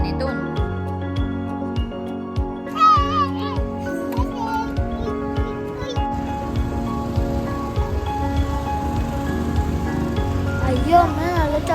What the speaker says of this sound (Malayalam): നല്ല ചാറ്റൽ മഴ.